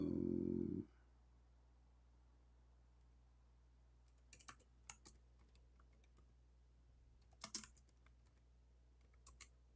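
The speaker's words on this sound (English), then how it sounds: "I'm typing English in the Arabic." A few scattered keystrokes on a computer keyboard come as faint, short clicks in small clusters over a low steady hum, after a brief louder burst of other sound at the start.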